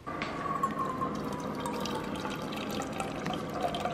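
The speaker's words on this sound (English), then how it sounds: "I'm about to go downstairs to make coffee." Liquid pours while coffee is being made, a steady close splashing trickle that runs for about four seconds with no talking.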